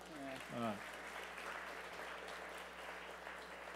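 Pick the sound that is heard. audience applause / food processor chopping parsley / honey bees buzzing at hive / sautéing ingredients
audience applause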